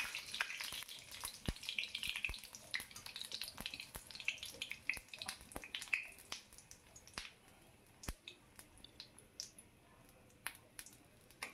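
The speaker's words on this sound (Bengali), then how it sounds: "কড়াইতে দেখো তেল গরম হয়ে গেছে, তার মধ্যে 5 ফোড়ন, শুকনো লঙ্কা ফোড়ন দিয়ে দিলাম।" Five-spice and dried red chillies tempering in hot oil in a wok for khichuri, giving a steady close sizzle with sharp irregular crackles and pops.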